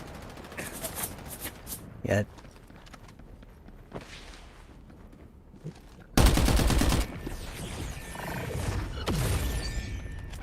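Gunfire in the battle-royale game Farlight 84: scattered single shots and a dense, loud burst of automatic fire partway through, followed by further rattling shots, with brief speech and game effects around them.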